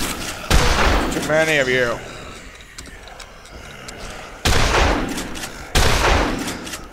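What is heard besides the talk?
gunfire from the video game Dead Island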